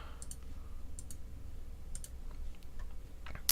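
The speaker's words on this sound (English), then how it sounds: "we're going to go ahead and click the Arma 3 exe right here" A computer mouse clicking on a PC, a handful of light, crisp clicks spaced irregularly, heard close and quiet with no voice.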